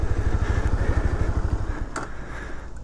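A Zontes Mantis 125 motorcycle engine running close by with a low, throbbing pulse that eases off toward the end, with no talking over it.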